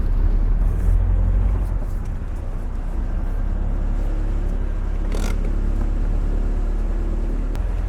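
A cheap £1000 Triumph Spitfire sports car with something loose, being driven: a steady, loud low engine and road rumble holds throughout, with a brief rise partway through.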